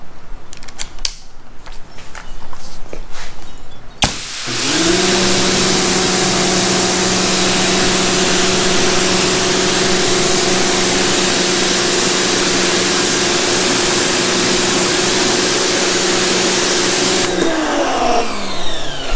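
Karcher electric power washer spraying through a stronger, more concentrated tip, a loud steady hiss with a motor hum that starts abruptly, runs continuously for about thirteen seconds and then cuts off.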